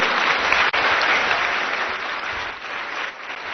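Steady audience applause at an official public event in Delhi honouring the Lieutenant Governor, a dense, loud wash of clapping that holds for several seconds and eases slightly toward the end.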